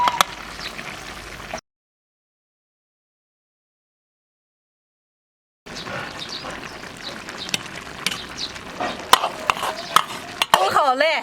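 Pork belly with dried green beans and wide noodles simmers in a wok, giving soft stirring scrapes and quiet bubbling, with a silent gap in the middle and clatter near the end.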